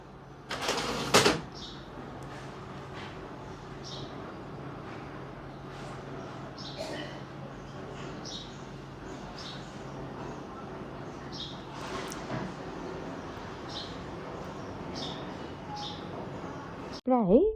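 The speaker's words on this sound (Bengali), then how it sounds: "যে পাখির আবার কিচিরমিচির শব্দ" Birds chirp nearby through an afternoon outdoors with short, high, faint calls repeating roughly every second over a low background hum, with a couple of louder knocks at the start and end.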